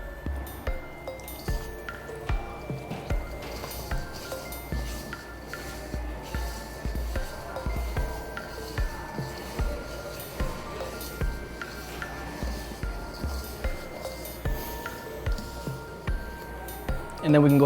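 Cheese curd for stracciatella-style cheesemaking is broken up by hand, producing soft repeated squishing and wet clicking sounds at a steady rhythm, close and fairly quiet, with a person talking over it.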